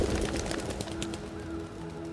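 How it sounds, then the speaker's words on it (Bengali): A few pigeons fly in and settle on an arch in the fading afternoon, with fluttering wings and soft, low cooing against a quiet background. "খিলানের ওপর কয়েকটা পায়রা উড়ে এসে বসল"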